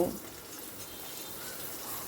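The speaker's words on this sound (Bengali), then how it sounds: "রসুনটাকে নাড়াচাড়া করে বেশ ভাজা ভাজা মতো করে নেব।" Garlic fries in a pan while being stirred, giving a faint, steady sizzling hiss that runs throughout, heard without speech.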